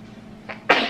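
One loud, sharp sneeze bursts out near the close of a brief, quiet moment, preceded by a faint intake of breath.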